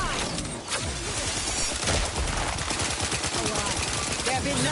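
Rapid gunfire in Outer Worlds 2 on Very Hard difficulty, a dense continuous stream of shots mixed with mechanical clatter and game effects, with voices speaking over it throughout.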